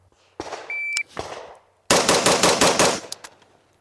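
Gunshots on an outdoor shooting range: a timer beep, then a loud, rapid string of about eight close shots fired in quick succession, with no talking.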